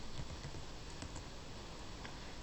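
Rapid, light keystrokes patter on a computer keyboard, a close, quiet run of typing clicks with no voices.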